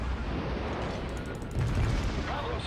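Heavy naval guns boom in a World of Warships battle, a dense rumbling wash of cannon fire and explosions with a louder blast swelling near the end, continuous and close.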